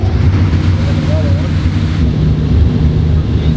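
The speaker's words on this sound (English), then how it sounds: "And I'm going to knock a fan on." A shop fan blows air in a dyno room where motorcycles are being tested, giving a steady, loud, low rumbling rush of air close to the microphone, with a short faint whistle partway through.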